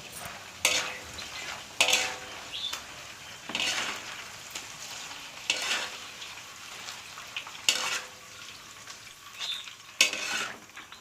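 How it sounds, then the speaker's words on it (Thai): Banana chips fry in hot oil, a soft sizzle running under repeated loud scrapes and clinks as a utensil stirs the pan every second or two. "เวลาที่เราลงไปใหม่ๆจะมีฟองน้ำมันขึ้นมาแบบนี้ค่ะ ก็ให้เพื่อนๆคนไปคนมาแบบนี้นะคะ"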